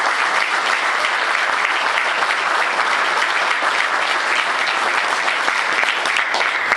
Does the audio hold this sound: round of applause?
yes